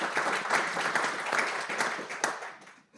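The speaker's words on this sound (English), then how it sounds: "Yeah, we can clap." A small audience at a lunchtime conversation claps briefly; the uneven, close-sounding clapping peaks early, then thins and fades to silence.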